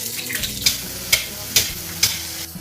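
Pickled mustard greens stir-fried in a wok sizzle loudly and steadily, punctuated by four or five sharp, rhythmic scrapes and clanks of the spatula against the metal, close and without talk.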